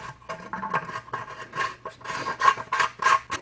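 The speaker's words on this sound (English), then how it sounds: "I just take an old paintbrush and then I just kind of get all the crusty stuff off" An old paintbrush scrubbing crusty deposits off a Briggs and Stratton carburetor, a close, quick series of dry bristly rasping strokes in short bursts.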